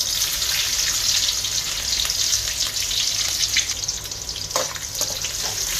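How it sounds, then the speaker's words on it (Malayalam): Garlic and five chopped green chillies sauté in a pan for vegetable fried rice, giving a loud, steady, hissing sizzle that runs unbroken throughout with no voices. "ഒരു 5 പച്ചമുളക് കട്ട് ചെയ്ത് വെച്ചിരിക്കുന്നത് അതും ഇട്ട് കൊടുക്കുക. എന്നിട്ട് നന്നായി സോട്ട് ചെയ്ത് കൊടുക്കുക."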